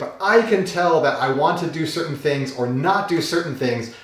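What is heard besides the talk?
No distinct noise like a dog, phone or traffic.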